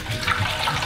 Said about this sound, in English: pour 2 glasses of water into the pan